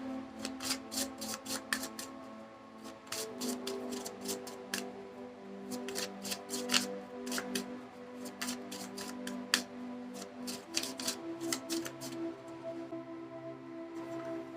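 Tarot cards being shuffled by hand, a steady run of crisp riffling snaps and soft slides close up, continuing with brief pauses and no talking.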